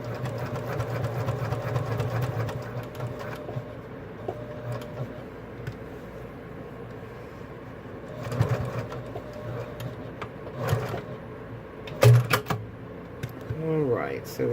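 A sewing machine top-stitches a vinyl flap, running in steady bursts under a constant background hum, with a few sharp knocks near the end.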